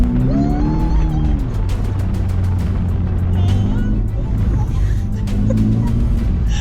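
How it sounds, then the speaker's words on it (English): A Toyota GR86 runs fast through a cone course, its engine note rising and falling as it accelerates and eases off, loud and close throughout. "we are now in the GR86, which is a very fun car, and we have to go through some cones"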